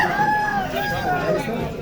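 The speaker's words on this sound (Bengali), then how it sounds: "অনেক বড়, সবচেয়ে বড় মোরগ এটা, হয়তো 9 থেকে 10 কেজি ওয়েট হবে" A very large rooster, roughly 9 to 10 kilograms and kept among fancy birds, gives a loud, close crow that fills the moment with a drawn-out, falling call.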